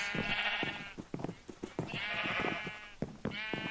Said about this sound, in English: So over here, I have my sheep farm. Bunch of different sheep.